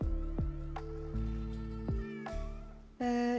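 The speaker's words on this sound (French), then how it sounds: "J'ai appris qu'il fallait caresser les chats." A video game cat meows repeatedly while being petted, several clear, close, tonal mews in a steady sequence, alone without talk.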